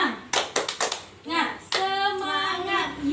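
A classroom of children performs a rhythmic clap routine, a quick run of sharp claps in a pattern followed by a group chant, with a teacher's voice and children's voices around it.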